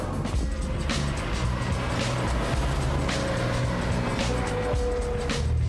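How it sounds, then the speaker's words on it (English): A Chevrolet Corvair Monza Spyder, a rear-engined American compact, drives along with a steady close engine drone and road rumble that holds evenly throughout, with faint whooshes of passing air. "taking an unusual American car out for a spin, the Chevrolet Corvair Monza Spyder"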